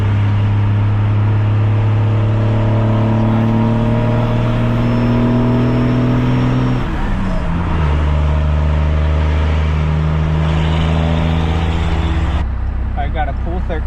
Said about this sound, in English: Can't beat the sound of a 5-inch straight pipe on a Cummins.